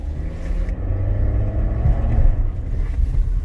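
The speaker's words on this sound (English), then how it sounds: "Sounds like an exhaust rattle to me." A Nissan with a loose exhaust rattling under the center console area: a loud, low engine rumble with a buzzing, vibrating rattle that swells briefly mid-way, heard from inside the cabin.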